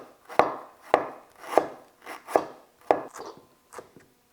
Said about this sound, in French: Donc 20 grammes de galanga. On va couper.